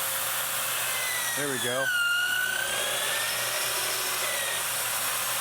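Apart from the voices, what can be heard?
drill bit drilling through steel tube on a robot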